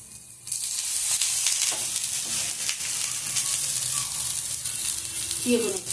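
Ragi adai cooking in a little oil on a pan gives a continuous close sizzle and crackle, beginning with a quieter moment and then holding steady throughout.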